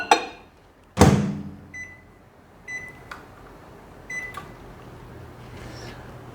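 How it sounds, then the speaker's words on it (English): A microwave oven door thuds shut and keypad beeps sound in short bursts, followed by a low steady hum as the microwave runs to melt white chocolate discs. "I'm going to put this in my microwave, and I'm going to microwave it about 20-minute intervals until I get it melted"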